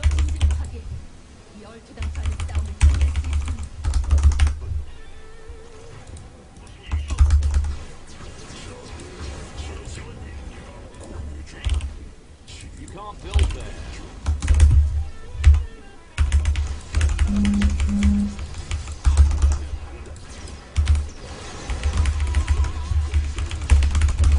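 Rapid clacking of a computer keyboard as shortcut keys are pressed while playing StarCraft II co-op, steady and close, with bursts of quicker typing and a few pauses throughout.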